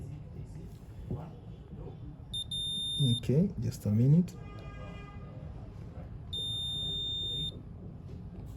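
Multimeter continuity beeping in steady tones while testing a phone's charging circuit, a short beep then a longer sustained one, clear and close, with a person speaking briefly in between.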